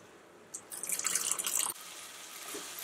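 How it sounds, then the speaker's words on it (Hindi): Water poured from a vessel into a simmering chicken leg masala curry with melted tomato and spices, a short splashing burst lasting about a second, close and alone. "अभी मैं इसमें ऐड करूंगी थोड़ा और पानी ताकि चिकन अच्छी तरह से बॉयल हो सके"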